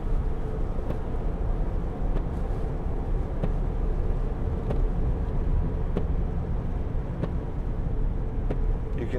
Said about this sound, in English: diesel engine, what a great sound.